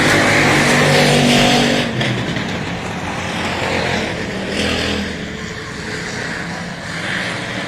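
Dwarf race cars roar around the track at Texana Raceway Park in Texas during a Dwarf Car Racing Series event, a loud, continuous engine drone that swells and eases as the pack passes.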